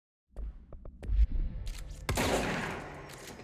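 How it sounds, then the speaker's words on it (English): Gunfire in the video game Control: a sharp, loud shot bursts out and leaves a long, dense, noisy rumble and wash of sound behind it, following a few scattered softer thumps and knocks. "But then see, you get like a gunshot in there"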